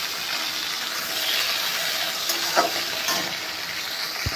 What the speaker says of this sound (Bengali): এটা ভাজা হয়ে গেল, আমার টমেটোটা ভাজা হয়ে গেছে।